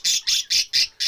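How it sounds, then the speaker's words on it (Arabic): Parakeets in an aviary give five loud, harsh squawks in a steady rhythm, each lasting about a fifth of a second with short gaps between. The calls are close and clear, with no voices. "في المكان هذا الطيور الاخرى ها هما هنايا"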